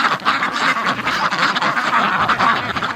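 Ducks quacking in water on a frozen-lake farm, a loud, busy chorus of repeated quacks close by with no talking.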